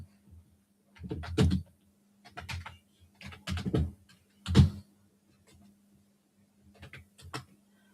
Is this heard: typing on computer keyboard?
yes